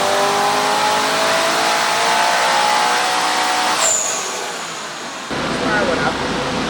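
Turbocharged 2022-or-later Toyota GR86/Subaru BRZ engine making a full pull on a dyno, a loud rising rev that climbs steadily, peaks with a high whine, then drops off abruptly into a lower roar.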